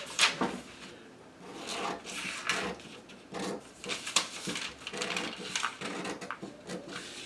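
Paper jacket sloper pattern being cut apart, with a close series of crisp, irregular snipping and rustling bursts continuing throughout.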